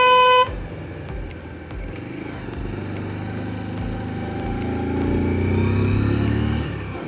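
A motorcycle rides along a hill village road, its engine drone holding steady and rising slightly toward the end, with a brief horn-like tone at the start.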